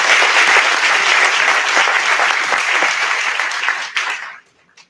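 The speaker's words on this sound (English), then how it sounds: "and I think a second round of applause would be perfect." A loud, dense round of applause from the crowd at a bank's grand opening in Minneapolis, steady for about four seconds before quickly fading out.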